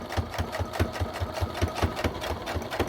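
Sewing machine running a rapid, even chatter of stitches while sewing a small keychain with a short stitch length, a steady mechanical rhythm heard up close with no talking.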